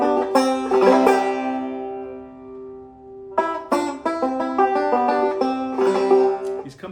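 Old-time banjo in South Carolina's China Poplin style plays a tune-ending lick, ringing plucked notes and double stops descending, then a short bright phrase after a pause, clear and close with no talking.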